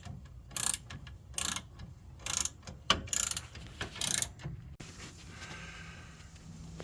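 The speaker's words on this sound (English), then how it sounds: "I'm taking this last nut, or this bolt out of the very bottom main control arm" Close, sharp bursts of a ratchet wrench click in quick repeated runs while a bolt is worked out of the lower control arm of a 2015 Ford Escape, pausing between strokes before a duller mechanical stretch at the end.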